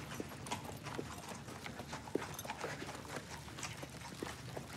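Horse hooves clip-clop in a steady, moderately close rhythm on a hard street, mixed with light background activity and no speech.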